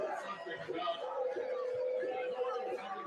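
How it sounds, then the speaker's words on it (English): A large crowd boos a politician, a sustained mass of jeering voices with yells and shouts mixed in, steady and loud throughout. "They start booing"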